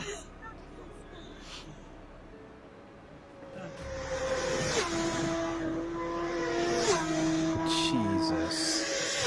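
A superbike races past through traffic, its engine note climbing and shifting in rising steps from faint to loud, with a steady mechanical drone and people talking under it.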